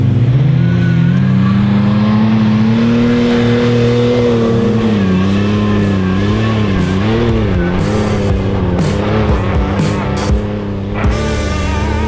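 A Toyota Hilux engine revs hard while driving over sand dunes on a rally trail, its loud, close drone rising and dipping in pitch through changing throttle, with no voices over it.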